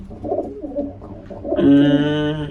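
A pigeon coos nearby, a low soft warbling call followed by a longer, louder throaty coo at the end, with no talking.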